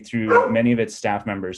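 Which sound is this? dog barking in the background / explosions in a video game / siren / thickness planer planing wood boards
dog barking in the background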